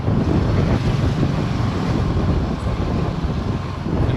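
Sea waves wash continuously onto the shore at Rameshwaram, a steady roaring surf mixed with gusty wind buffeting the microphone, loud and close with no voices.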